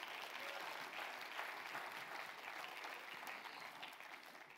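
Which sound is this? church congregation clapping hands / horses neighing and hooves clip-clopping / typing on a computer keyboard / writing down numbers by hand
church congregation clapping hands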